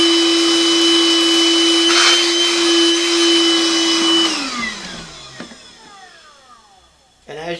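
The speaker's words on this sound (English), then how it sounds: "I'm going to turn the vacuum on for a minute to clean the hole out." A vacuum cleaner runs loud and close with a steady whine, cleaning out a freshly drilled dog hole in a workbench, then powers down and its pitch slides away into near silence.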